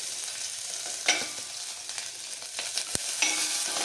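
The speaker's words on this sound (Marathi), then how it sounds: "शिमला मिरची बटाटा गाजर आणि टोमॅटो हे सगळं फ्राय करून घ्यायचं आहे" Ginger-garlic paste and vegetables fry in a pan for masale bhat, a steady sizzle broken by stirring scrapes and a sharp utensil knock near the end.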